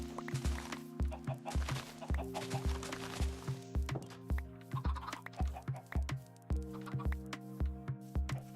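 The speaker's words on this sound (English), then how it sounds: "I can slowly feed the chickens as I collect the seeds." Chickens cluck in the Minecraft video game amid steady rhythmic thunks and blocky game sounds, a repeating pattern of soft low knocks with short clucking calls layered over a constant tonal hum.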